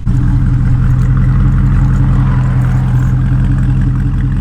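Dodge Charger 392 Scat Pack V8 exhaust, a loud, deep, steady rumble with a throbbing low-end pulse, close up and sustained without pauses.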